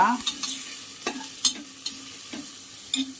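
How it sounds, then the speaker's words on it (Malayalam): Half an onion's worth of sliced onions is stirred in a hot pan, with a soft steady sizzle under repeated light scraping strokes of the spoon, fairly quiet and close. "ആദ്യം നമ്മുടെ സവോള, പകുതി സവോള സ്ലൈസ് ചെയ്ത് വെച്ചത്, അതൊന്ന് ഇളക്കുക"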